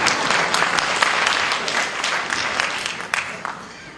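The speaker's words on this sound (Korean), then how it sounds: "박수 좀 크게 쳐주셔야 되는 거 아니에요?" A crowd applauds loudly and steadily at a Gangwon political campaign rally, a dense wash of clapping that tapers slightly toward the end.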